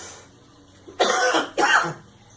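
A man mid-speech breaks off with two short, loud bursts of coughing and throat clearing, close to the microphone, separated by a brief pause, with quiet room tone before and after.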